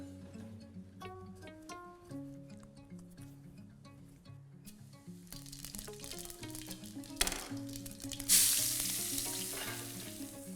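Cumin seeds, fennel and chopped onion sizzle and crackle in hot oil as a base for soya kofta gravy, with stirring and a sharp burst of frying as the onion goes in near the end.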